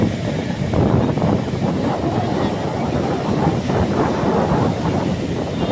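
Stormy sea surf pounds Digha beach on a crowded afternoon, a loud, continuous roar of breaking waves with rolling surges and heavy wind buffeting the microphone throughout.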